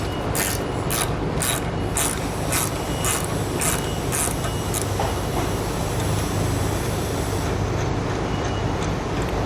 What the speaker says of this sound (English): We're going to use a 19mm socket and wrench.